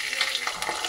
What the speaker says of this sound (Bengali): 2 চামচ আদা বাটা দিয়ে দিলাম